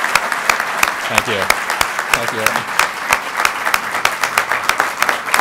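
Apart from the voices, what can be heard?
audience applause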